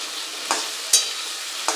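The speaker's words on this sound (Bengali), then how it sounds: "কুমড়োগুলি ভেজে তুলে নেওয়ার পরে আমরা এর মধ্যে দিয়ে দেব যেই ধুঁধুলগুলো কেটে রেখেছি সেই ধুঁধুলগুলিকে" Sponge gourd pieces sizzle in hot oil in a pan, a steady frying hiss with a few sharp spatula scrapes and clinks, close and fairly quiet, no voices.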